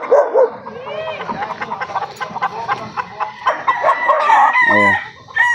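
A straight-combed Bulik gamefowl rooster crows loudly and close, among a yard of clucking fowl with a dog barking in the background, the crowing rising at the end over dense bird chatter.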